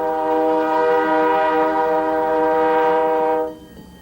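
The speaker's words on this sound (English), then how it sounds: "The famous Newfie Bullet was about to expire after 71 years." The Newfie Bullet passenger train sounds its horn on its last trip, one long, loud, steady blast held for over three seconds before it cuts off, leaving a low rumble.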